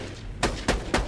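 Three sharp, evenly spaced shots from a newly acquired fast-firing gun in Borderlands 2, crisp and close over a low background hum.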